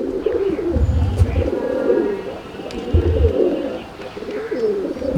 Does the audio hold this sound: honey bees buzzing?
no